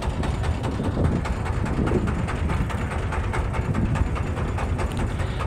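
A trawler boat's engine runs nonstop, a loud, close, rumbling mechanical throb with a fast, even beat.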